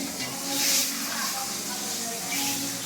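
Bengali five-spice, bay leaf and dry red chilli hitting hot oil, a loud continuous hiss and sizzle that swells briefly and stays close throughout.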